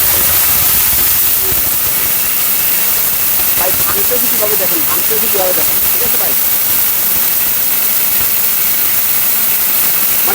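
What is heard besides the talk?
powerful blender grinding chickpeas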